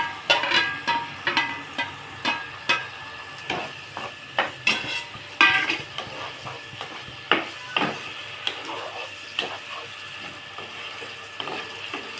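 Ridge gourd frying in hot oil in a pan, with a soft sizzle under repeated clinks and scrapes of a metal spoon stirring against the pan, close up and without speech.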